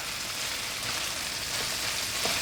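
Beef tapa marinated in Coca-Cola fries in a pan after its liquid has cooked off, giving a steady, close hissing sizzle that continues evenly with no voices.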